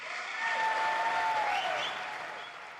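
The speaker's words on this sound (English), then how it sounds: "not all people clapping there, though" Applause from a crowd, a soft wash of many hands clapping at a distance that swells and then slowly fades, with no talking over it.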